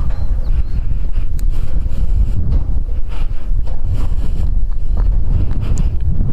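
Strong wind buffets the microphone on Mt. Kulis in Tanay, Rizal, while a CB400 motorcycle is stopped during a mountain ride, making a loud, constant roaring rush with no break.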